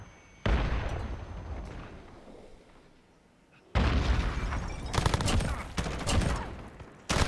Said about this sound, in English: this guy is having a stun grenade war with me.